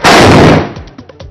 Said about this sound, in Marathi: अंबाबाईला तोफेची सलामी